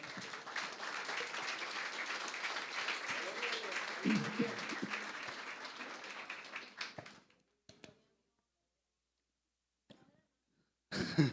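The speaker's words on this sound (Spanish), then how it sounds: "Y a su nombre, denle un aplauso a Dios, por favor." Church congregation applauding during a Spanish-language Christian sermon, a steady wash of clapping that fades out after about seven seconds, followed by near silence and a brief burst of sound at the end.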